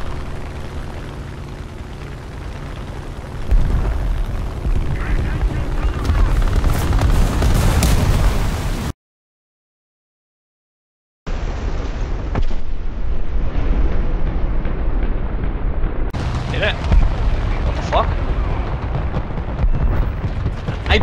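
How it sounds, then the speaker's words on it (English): Heavy 1000 kg aircraft bombs detonating in the War Thunder combat game: loud, sustained explosive rumble and booming bursts with a short dropout, then more rolling blasts and pops. "My 1000 kilogram bombs got him."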